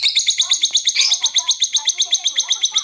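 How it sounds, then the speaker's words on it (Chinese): A pet parrot, a hairless one, gives rapid, repeated high-pitched chirping calls with an urgent, excited feel, loud and close, with no talking. "高频且急切的叫声一般出现在主人回家或看到喜欢的食物、玩具时。"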